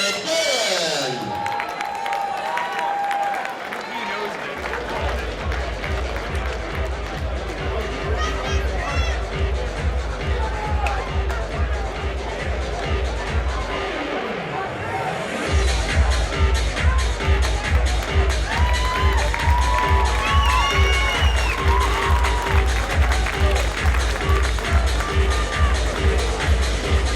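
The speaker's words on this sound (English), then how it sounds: "Let's give him another big round of applause, ladies and gentlemen." A crowd at a women's 132-pound boxing bout applauds and cheers without a break. Clapping and crowd noise run through the whole stretch alongside a thumping rhythmic beat, and the crowd grows louder in the second half.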